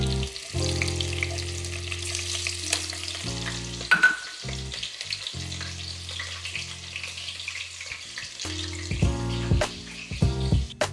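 Crushed garlic and chili hit hot oil in a pan, giving a steady loud sizzle with bursts of stirring clatter and crackle throughout, no talking.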